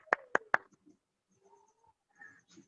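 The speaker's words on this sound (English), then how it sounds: "I clap for you." A teacher claps three times, crisp and close in quick succession, followed by near silence with a few faint, distant sounds.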